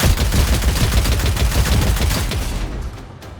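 Rapid, overlapping gunfire from the video game Warhammer 40,000: Dark Heresy, a loud, dense barrage of shots that fades slightly near the end, with no voices.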